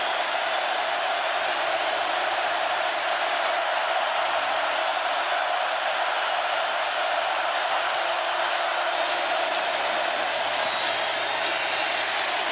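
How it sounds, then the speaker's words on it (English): Steady, dense roar of a college football stadium crowd, the student section at an LSU versus Texas game, filling the whole stretch as an unbroken wash of noise with no clear individual voices. "The offensive line is going to have to deal with crowd noise here."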